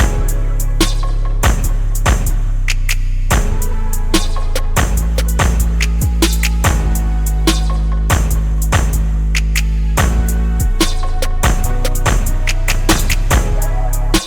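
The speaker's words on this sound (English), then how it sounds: "And last but not least, we got an 808" A drill beat with a deep, sustained 808 bass pulsing under crisp hi-hats and snappy percussion, loud and continuous throughout.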